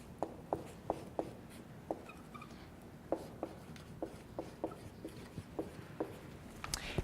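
Marker or chalk writing a number on a classroom board during a chemistry lesson, a string of short, quiet taps and strokes in an uneven rhythm with no talking.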